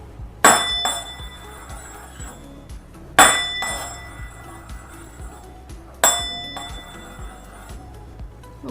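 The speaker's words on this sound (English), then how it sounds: "And now I will try to move my spoon around the glass after banging it." A metal spoon strikes a glass three times at even intervals, each bright clink ringing out and slowly fading as the spoon moves around the rim, loud and close with no talking.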